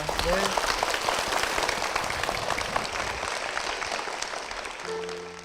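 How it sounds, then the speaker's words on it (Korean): Church congregation in a Korean church service bursts into sustained, dense applause filling the room steadily from start to finish, with a brief tone at the end. "우리 축복의 박수 부탁드리겠습니다"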